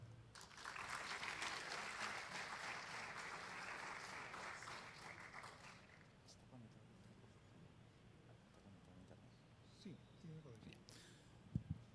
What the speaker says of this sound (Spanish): le damos la bienvenida al ingeniero Fernando Vargas Cano con un fuerte aplauso.